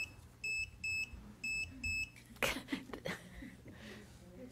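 A clock in a meeting room gives four evenly spaced electronic beeps, fairly close and clear, then someone sniffs or breathes sharply before a quiet room hum with faint murmuring.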